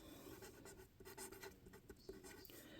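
A pen scratches steadily across paper while a website address is written out by hand. The scribbling is quiet and close, with short strokes and brief pauses.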